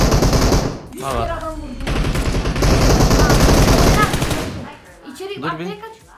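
Rapid automatic gunfire from PUBG Mobile, loud and dense in sustained bursts across most of the stretch, easing off near the end with a voice speaking briefly under the shooting.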